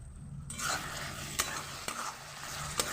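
Shrimp shutki paste frying and being stirred in a pan, a close sizzle with the scrape of a spoon and a few sharp clinks against the metal.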